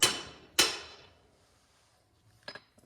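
Hammer blows on a 1946 Ford Coupe: two sharp, ringing metallic strikes close together that decay slowly, followed by a softer cluster of light taps.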